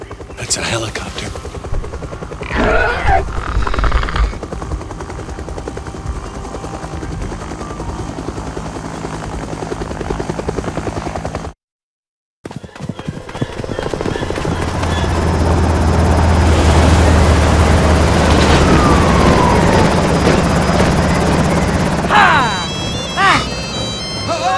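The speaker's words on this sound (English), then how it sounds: "That's a helicopter." Helicopter in the LEGO Jurassic video game: a steady rotor thrum runs under cutscene speech and effects, cuts out briefly, then returns louder and more continuous alongside crashing sounds.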